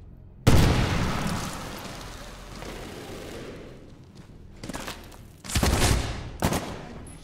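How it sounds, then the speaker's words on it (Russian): Grenade blasts in the shooter game Medal of Honor: Warfighter: one loud, sharp explosion with a long rumbling decay, followed by two or three more bursts and some gunfire later on, with no talking. "Еще раз граната."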